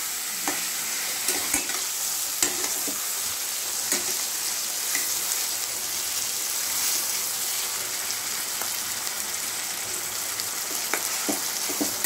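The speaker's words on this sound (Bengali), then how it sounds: "নেড়ে চেড়ে নিচ্ছি যাতে টমেটোটাও নরম হয়ে যায় আর পেঁয়াজটাও নরম হয়ে আসে" Tomatoes and onions frying in a pan are stirred for a spicy Bombay duck fish dish, giving a continuous close sizzle with scattered scraping clicks of the stirring utensil and no voices.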